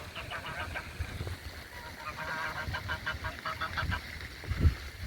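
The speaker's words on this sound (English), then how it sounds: "I believe that is a Sebastopol goose." A Sebastopol goose honks repeatedly by a pond, a run of nasal calls at moderate distance over low outdoor background noise.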